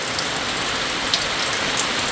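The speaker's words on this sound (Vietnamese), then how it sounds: "Mưa lớn quá các bạn." Heavy rain falls on a hilltop campsite in Malaysia, a dense, even hiss of pattering drops close by with a few sharper splats, no voices.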